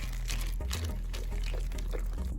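Chocolate chips poured into banana bread batter in a home kitchen, a soft continuous rattling pour lasting a couple of seconds, fairly close, with no talk over it.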